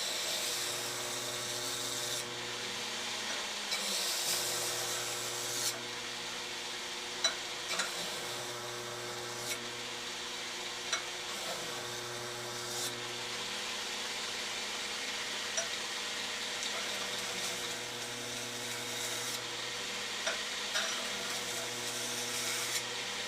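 A Burr King belt grinder runs at low speed while a knife blade is ground, producing a continuous steady whir and rubbing hiss with occasional faint knocks, sustained and alone with no talking.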